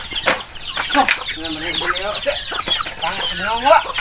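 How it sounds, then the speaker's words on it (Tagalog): Chickens on a farm cluck and chatter close by in quick, overlapping calls, with a burst of wing flapping and a voice speaking faintly in the background. "Manok."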